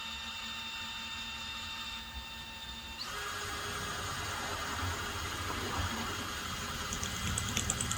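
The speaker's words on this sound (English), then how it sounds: "It's quite easy if you've got a sharp drill bit." A power drill with a sharp bit bores through a truck mirror mount on a VW T25/T3 Vanagon, a steady whirring hum that rises and roughens as the bit bites in, close by with no voices.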